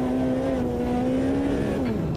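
Ferrari F512 BB LM race car in the Automobilista 2 racing game holds a steady droning engine note, loud and continuous, dipping slightly in pitch near the end.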